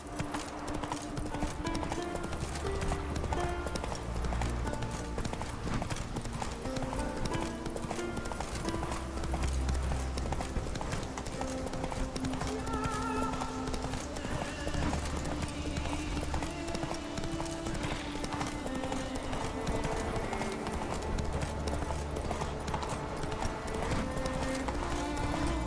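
A horse gallops in The Witcher 3 video game, rapid rhythmic hoofbeats pounding loud and continuous over game music and ambience, with a brief whinny possible amid the din.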